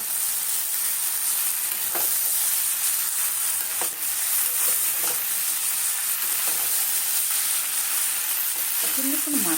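Chow mein sautéing in a hot pan, a steady broadband sizzle with intermittent scraping and stirring clicks from a utensil, close and continuous, with a brief clatter near the end.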